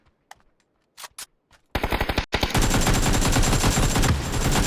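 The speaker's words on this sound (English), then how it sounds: "Oh my god, he's got a gun!" PUBG video game gunfire starts as a few isolated shots, then erupts into loud, sustained rapid-fire bursts of automatic weapon fire, with no talking.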